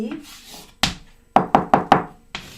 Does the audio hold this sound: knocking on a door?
yes